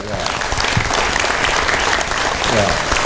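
Dense, steady applause fills a community empowerment gathering in Salatiga, Indonesia, honouring a preschool that placed third nationally; the clapping is loud, continuous and close for the whole stretch.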